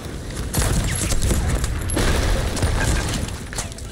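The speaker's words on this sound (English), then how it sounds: "shoot left side cannons" A broadside of ship cannons blasts from the left side in a video game, a dense rolling burst of heavy booms and crashing impacts, loud and close, lasting several seconds.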